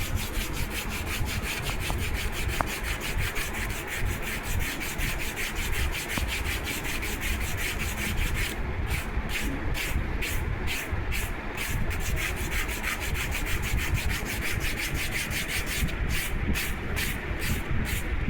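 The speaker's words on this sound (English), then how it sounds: "Keep varying the angle of the sanding block so that you get perfect curve shape." A sanding block rubs back and forth along the edge of a balsa wood model wing in steady, close rhythmic strokes that continue without pause throughout.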